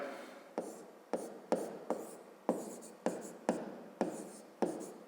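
Pen or chalk writing on paper or a board during a maths lesson, about ten short scratchy strokes at a fairly even rhythm, close and quiet, with no talk over them.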